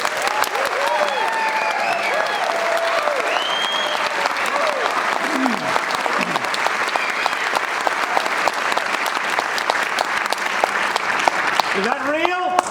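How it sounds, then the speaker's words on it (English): Sustained, dense applause from a large crowd fills the whole stretch, steady and loud, with a few whistles rising above the clapping. "Sounded pretty real. Really good applause."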